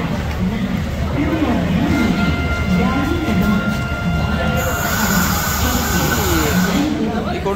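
A train rumbles along at a station platform while a voice talks over it, a loud steady rolling roar with a thin high squeal appearing midway through.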